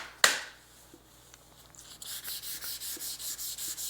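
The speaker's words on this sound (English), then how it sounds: "if you get really carried away and go to town sanding on this thing" Hand sanding of Createx UVLS gloss clear coat over masked edges: after a sharp tap, faint scuffs give way to a quick, even run of close, rhythmic rubbing strokes, with no talking.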